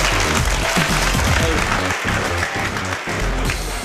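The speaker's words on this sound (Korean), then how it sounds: "세계 최강의 이상준과 코미디 빅리그 팀에게 여러분 다시 한번 큰 박수 부탁드립니다" Loud applause from a studio audience for comedian Lee Sang-jun and the Comedy Big League team at a celebrity League of Legends match, with music and cheering mixed in throughout.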